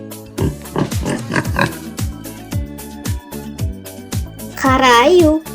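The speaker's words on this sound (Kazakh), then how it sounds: "Қабан." A wild boar grunts in several short, rough bursts, with a longer squealing call near the end, all over a rhythmic musical backing.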